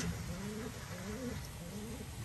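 A racing pigeon, a champion of a 937 km race, coos softly in repeated low, warbling phrases over a faint steady background hiss.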